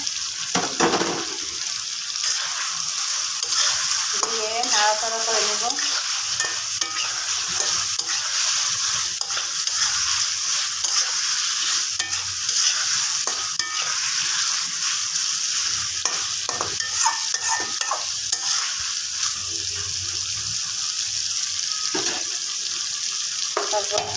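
Pieces of fried rohu fish being stirred in a pan of spices for a fish bhuna, with a steady sizzle and scraping stir strokes running throughout, close and moderately loud, with no talk.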